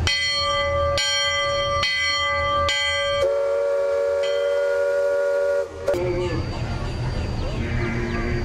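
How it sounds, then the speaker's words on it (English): A steamboat bell on the Liberty Bell riverboat rings four loud, evenly spaced strokes at close range, then a long sustained whistle-like tone follows amid busy background noise. "Sound last bell."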